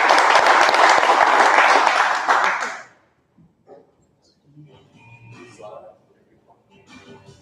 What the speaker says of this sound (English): So big round of applause to those guys.